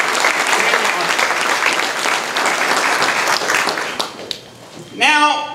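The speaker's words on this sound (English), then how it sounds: "So one more very big round of applause to every single one of you for coming here today." A large audience at a mastermind business seminar applauds in a loud, dense wash of clapping that fades near the end, followed by a brief voice.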